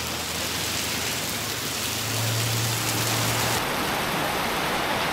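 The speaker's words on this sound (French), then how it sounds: "Première pluie au Cambodge, c'est assez impressionnant." Heavy rain pours steadily in Cambodia at the end of the rainy season, a loud dense hiss of drops drumming on surfaces near a restaurant, with a low hum rising briefly in the middle.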